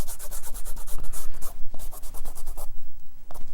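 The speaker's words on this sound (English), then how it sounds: "I go in and take my gum eraser and I take it out" A gum eraser rubs briskly back and forth over pencil lines on watercolor paper, giving close, rapid rhythmic scrubbing strokes with short pauses.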